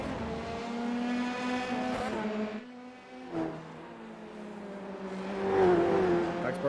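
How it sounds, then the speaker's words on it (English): A Formula 3 race car in the iRacing game at the Nürburgring GP circuit gives a high, screaming engine whine that sags and dips as it slams toward a wall. The whine briefly drops away, then climbs again with tire squeal. "just a car screaming into a wall"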